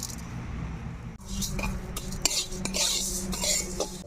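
Moong dal being dry-fried and stirred in a kadai on a stove, with steady metallic scraping and clinking of a utensil against the pan over a low continuous background, moderately close.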